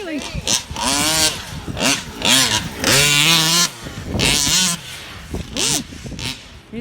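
A motorcycle fitted with a billet gas cap revs up and down in loud, rising and falling bursts close by, while people talk over the engine.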